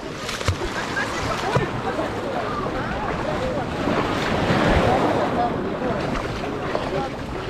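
Sea surf rolling onto the shore at Lazarevskoye beach near Sochi on a September day, a steady broad wash of breaking waves with wind buffeting the microphone throughout.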